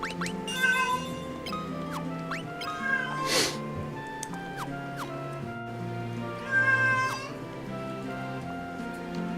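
A cat waiting to be fed meows and yowls over and over in rising, whiny calls, fairly close, over a steady layered background of game music.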